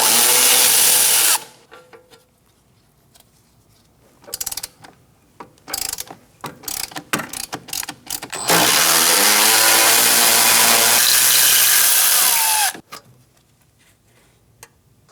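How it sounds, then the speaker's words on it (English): Power tool or ratchet loosening the 18mm caliper bracket bolts on the rear brakes of a 2009-2017 Audi Q5, in loud sustained whirring bursts, with clicky ratcheting spells between runs. "Now we're going to be removing the 18mm bolts from the caliper bracket."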